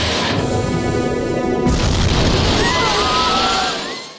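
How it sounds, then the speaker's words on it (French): A German torpedo strikes the liner Lusitania, a deep boom bursting out mid-clip over a dramatic soundtrack, then a long rumbling roar that fades toward the end. "Suite à la première détonation due à l'impact de la torpille"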